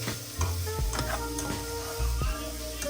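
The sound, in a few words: garlic and basil stalks being stirred and cooked in a pan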